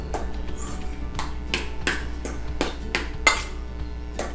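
A spoon stirs a grated boiled potato mixture for egg potato balls in a bowl, making a steady run of about eight rhythmic scrapes and clinks against the bowl, close and fairly loud.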